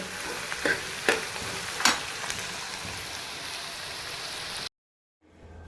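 Onion, tomato and green chili sizzle steadily in a pan, with a few sharp stirring scrapes early on before the frying cuts off abruptly into near silence.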